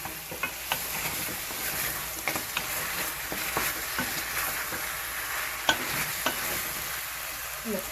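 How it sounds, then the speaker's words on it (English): Chicken curry being stirred in a pot, a constant sizzle broken by repeated sharp scrapes and knocks of the spoon against the metal, close and without talk. "Let's mix this up."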